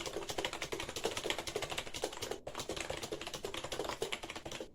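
Rapid, continuous clacking of keys on a XINMENG 60% RGB gaming keyboard, typed close up with a brief pause midway, with no voices.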